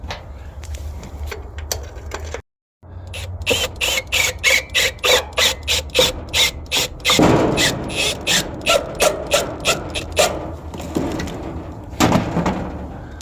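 A coarse-thread self-tapping bolt from a mid-1960s Pontiac is driven through a pilot hole into a Pontiac Catalina's steel firewall, giving a loud, steady run of rhythmic ratcheting clicks close up, with a brief pause near the start.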